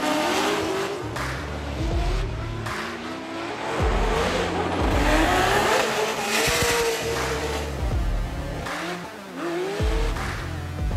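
Formula Drift car on a drifting run at an American event, engine revving hard and rising and falling over screeching tire squeal, loud and continuous with shifting pitch as it slides past.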